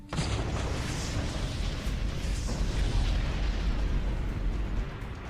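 Iranian ballistic missiles launch in a sustained, powerful roaring blast. The dense rumble starts abruptly and holds at full loudness for several seconds before easing slightly at the end.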